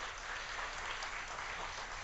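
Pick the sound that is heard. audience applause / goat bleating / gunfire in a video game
audience applause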